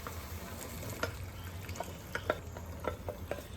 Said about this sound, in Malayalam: അതിനുശേഷം ഉപ്പ് കൂടി ചേർത്ത് നേരത്തെ വേവിച്ചെടുത്ത കടല പാനിലേക്കിട്ട് ഇളക്കി മിക്സ് ചെയ്യണം